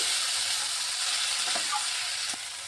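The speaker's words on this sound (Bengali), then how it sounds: "দেখুন এই যে ভাজা ভাজা হয়ে যাচ্ছে" Sweet pumpkin peel with a little sugar frying in a pan, giving a steady, bright sizzle that holds throughout, broken by a couple of faint stirring taps.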